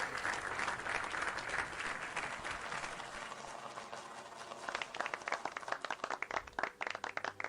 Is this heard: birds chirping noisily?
no